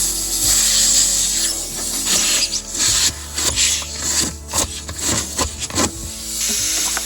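Reaming a tire puncture with a plug kit reamer, close gritty scraping and ratcheting twists in irregular bursts, loud and continuous over several seconds without speech.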